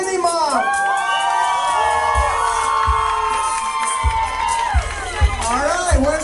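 A crowd at a contestant costume judging cheers, whoops and shouts with children's voices among them, sustained loud yelling with sharp peaks and some thumps.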